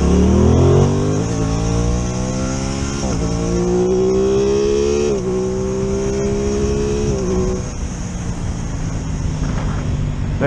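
Aprilia Tuono 660 Factory motorcycle accelerating hard through several gears, its engine note climbing repeatedly with quick drops at each shift, loud and close with wind rush, then easing off toward the end.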